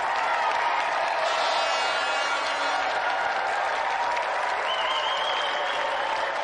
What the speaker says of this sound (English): applause for a brilliant impromptu challenger, Helen Williams.